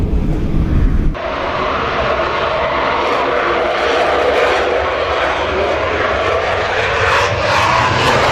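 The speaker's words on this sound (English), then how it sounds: "Definitely enjoying the Eurofighter Typhoons, and especially that one with the performance takeoff." Eurofighter Typhoon jet engines roar loudly and steadily during a performance takeoff, a broad continuous rumble that surges at the start and holds strong throughout.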